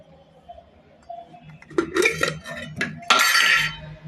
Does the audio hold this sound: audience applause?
no